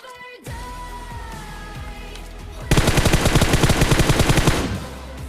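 Automatic gunfire in a first-person shooter game, with rapid loud bursts of rattling shots in the latter half over a steady game ambience and background sound.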